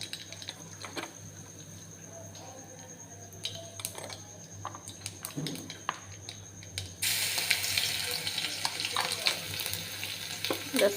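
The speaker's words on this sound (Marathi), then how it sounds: "तेल पण गरम झालं आहे, आपण फोडणी टाकू।" Garlic and spices hit hot oil for tempering a sweet-and-sour tomato chutney. A few seconds of quiet kitchen clatter come first, then a loud, steady sizzle swells and carries on.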